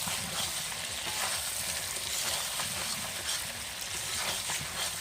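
Chicken curry with potatoes, cooked village style with no water and the oil rising, is stirred hard in a pot. A dense sizzle runs throughout, broken by repeated scraping stirs.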